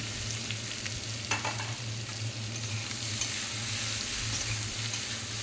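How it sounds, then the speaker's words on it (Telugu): Cut ridge gourd pieces sizzling steadily in a hot pan for a chutney, with a spoon scraping and stirring through them close by and no talk. "మళ్ళీ మనం కట్ చేసి పెట్టుకున్న బీరకాయ ముక్కల్ని వేసుకోవాలి"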